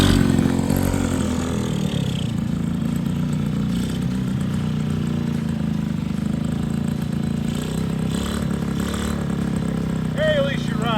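An 80cc Yamaha CV80 scooter, a worn flea-market find in need of repair, runs with a steady low drone close by while people talk over it.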